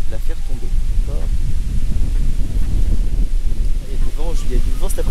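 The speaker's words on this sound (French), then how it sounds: "Il y a du vent cet après-midi, ça va pas être facile." Gusty afternoon wind buffets a microphone outdoors beside a river during paste-bait fishing, a loud continuous rumble with brief bursts of speech-like sound under it.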